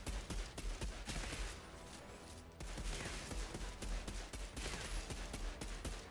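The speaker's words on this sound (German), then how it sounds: "Vielleicht kann ich mir mit dem Sturmgewehr den Sniper holen." Sustained assault rifle fire in the game Outriders: rapid continuous bursts of automatic gunfire, dense and steady with a brief pause midway, loud and close with no talk.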